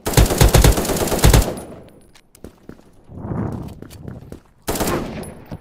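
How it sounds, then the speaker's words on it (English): Sniper rifle fire rings out in the video game Krunker: a loud opening burst of rapid shots, then sparse sharp cracks, with a short voice passage between and a final loud burst. "Oh, it is sniper rifle."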